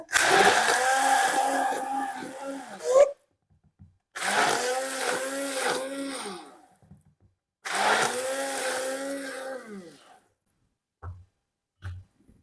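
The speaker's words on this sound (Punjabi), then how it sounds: "ਦਹੀਂ ਆਪਾਂ ਫੈਂਟ ਕੇ ਬਣਾ ਦਾਂਗੇ" Curd (dahi) being whipped for lassi in a whirring electric blender, loud and close in three bursts of about three seconds each with short gaps, then a few faint knocks.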